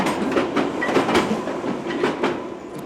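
A London Underground train runs along electrified track with traction current on, a steady close rumble with rhythmic clickety-clack beats from the wheels, continuous and loud.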